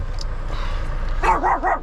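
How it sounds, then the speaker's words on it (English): A dog lets out a short run of three or four close barks over a low rumbling truck engine during a pre-trip inspection. "What are you barking at, dude?"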